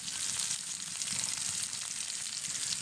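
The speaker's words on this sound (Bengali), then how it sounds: "কড়াইতে তেল দিয়ে নিলাম তারপর একটু রসুন কুচি" Chopped garlic sizzles in hot oil in a wok, a steady close crackling fry with no talk.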